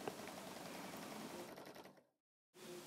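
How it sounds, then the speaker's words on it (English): A sewing machine stitches a line with a Parrs Reel Ruler number 11 oval template, running as a steady, continuous mechanical whir for about two seconds, then cutting out to silence before starting up again. "Sew the first line."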